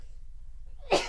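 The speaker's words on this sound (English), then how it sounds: "Sneeze." A single sharp sneeze bursts out near the end after a moment of quiet low background hum, close and loud.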